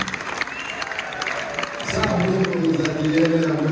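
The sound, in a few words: wedding guests ululating in welcome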